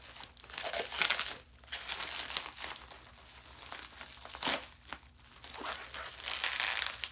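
Packaging being torn open through its bottom, with crinkling and ripping in several bursts of close, rustling noise that swell and fade.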